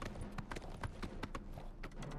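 A horse in the video game Oblivion Remastered trots with a steady, rapid clip-clop of hooves, fairly close and clear over a low background hum.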